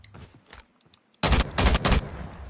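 Rapid automatic gunfire from a weapon in the mobile shooter game Call of Duty Mobile, loud bursts starting abruptly after quiet game sounds, with several clustered volleys over the last second and a half.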